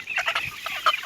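A chicken clucks several times in quick, short bursts, close by and fairly clear against a quiet background.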